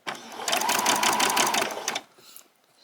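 Close sewing machine stitching a pajama top, a steady fast whirring run of about one and a half seconds that stops abruptly, followed by faint handling noise.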